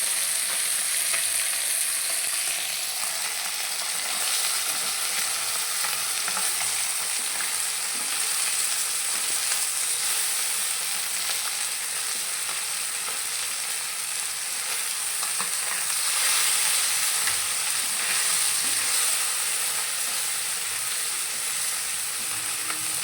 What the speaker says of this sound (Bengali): একটুখানি মাছটা লাল করে ভেজে নিচ্ছি